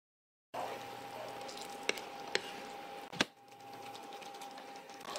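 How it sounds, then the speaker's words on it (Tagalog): A thick Filipino tuna and tofu sauce bubbling and sizzling steadily in a pan while being stirred, with a few sharp utensil clicks against the pan, close and fairly quiet. "Haluin lamang mabuti hanggang sa lumapot na yung ating sauce."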